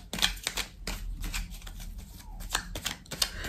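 A tarot deck is cut and shuffled by hand, quick papery riffles and snaps repeating in short bursts over a faint steady hum, with no talk.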